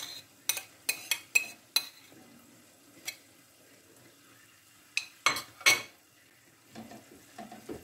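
Canned tuna broken up and tipped into a vegetable and noodle mixture, giving a string of sharp close clinks and scrapes of utensil on bowl, clustered in quick bursts with quiet gaps between.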